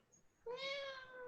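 A cat gives one drawn-out, tonal meow after a brief near-silence, fairly close and clear with nothing else over it.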